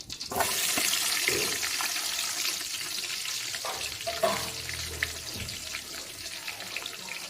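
Onions sautéing in hot oil with cinnamon, cloves and cardamom for mutton biryani, a steady close sizzle and hiss with occasional stirring scrapes, no one speaking.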